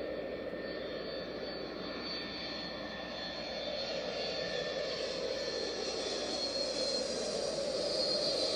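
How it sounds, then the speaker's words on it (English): A steady, loud airplane engine roar that builds slightly over time, a continuous broadband drone with no voices. "Oh my god, it's an airplane."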